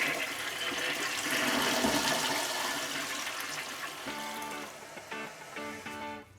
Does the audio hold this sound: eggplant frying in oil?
no